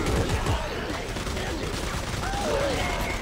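Rapid bursts of gunfire from the video game Dead Space 3 crackle continuously against a busy, noisy background, with muffled voices mixed in.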